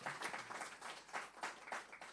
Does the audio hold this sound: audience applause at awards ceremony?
yes